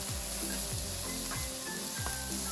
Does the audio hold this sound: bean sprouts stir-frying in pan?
yes